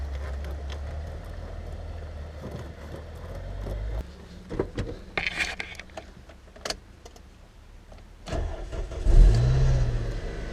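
A Toyota Yaris engine cranks and fires, then idles and revs in a mid-pitched run, with a few sharp clunks and rattles close by and a louder rev burst near the end.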